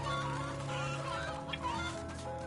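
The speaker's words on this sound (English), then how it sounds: "All you gotta do is get the chickens to eat the grain" Chickens clucking in the video game MediEvil, during a puzzle where the birds are herded to eat grain; a steady bed of soft fowl clucks runs throughout under layered game ambience and music.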